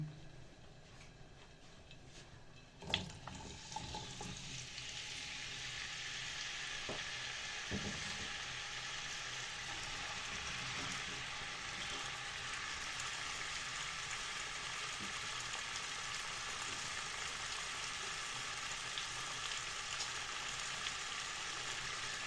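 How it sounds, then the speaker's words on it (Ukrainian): Potatoes frying in a pan of hot oil, a sudden loud sizzle as they go in, then a continuous soft, even hiss that carries on steadily for a long stretch. "першим викладаємо ми для смаження це картоплю"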